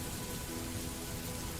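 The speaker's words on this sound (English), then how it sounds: "The rain had softened into a tender drizzle, as if bidding farewell until it was needed again." Steady, close rain in a gentle drizzle, a dense even hiss with soft low rumble underneath and no breaks, continuous throughout.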